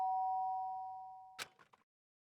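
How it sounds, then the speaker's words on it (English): A single electronic doorbell chime rings out and slowly fades, followed by a brief burst of clattering noise. "the sound of the doorbell forced its way into my room."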